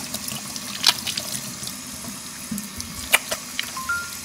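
Tap water runs steadily from a faucet during handwashing, checked by an Apple Watch handwashing timer, with a soft continuous stream and a few brief splashes and clinks, fairly close with no talk.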